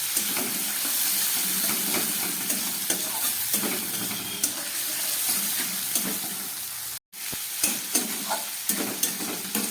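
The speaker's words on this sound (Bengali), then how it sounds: "চিংড়ি মাছ আর বড়িটা ভেজে নিলাম" Steady loud sizzle of shrimp and lentil dumplings frying in hot oil, with scraping stirs and clinks throughout and a brief cut to silence near the end.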